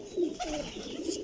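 A teddy pigeon with feathered feet gives a soft, low coo, a brief rolling murmur heard up close against a faint background hiss.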